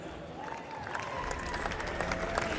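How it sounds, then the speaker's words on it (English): A crowd applauds steadily at the FIFA 18 eWorld Cup Grand Final, a dense wash of clapping that swells slightly toward the end, with no voices standing out. "And a round of applause for the crowd."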